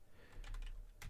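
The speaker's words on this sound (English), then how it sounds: "Microsoft keyboard seems to produce two different symbols depending on where I type it." Several quick keystrokes on a Japanese Microsoft keyboard, a small cluster of close clicks after a brief pause and then one more tap near the end, with no talking.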